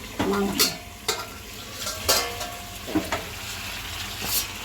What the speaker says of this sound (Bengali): তো কাকি মাংস রান্না করছে